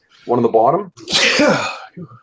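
A single loud, close sneeze bursts out right after a short spoken phrase during a tabletop role-playing game session, followed by a faint murmur.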